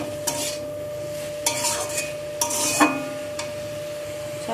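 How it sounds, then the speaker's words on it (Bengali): Bathua greens with salt stirred in a pan, heard as several distinct scraping strokes of a utensil against metal over a low sizzle and a faint steady tone, close and rhythmic with short pauses between strokes. "লবণ দিয়ে সব কিছুকে ভালো করে মিশিয়ে নেব।"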